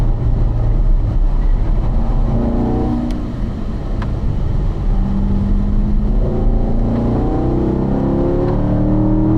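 A car driven on a race track hums with a loud, close, steady engine drone, pitch rising and falling gently as it brakes lightly and accelerates through turns.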